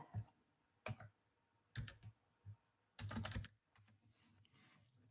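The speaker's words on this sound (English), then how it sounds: "I will type in the IP address of my web server." An IP address typed on a computer keyboard: faint, close clicks in short separate bursts, ending in a denser cluster of keystrokes.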